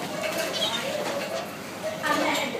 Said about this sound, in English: Oh, look at these birds.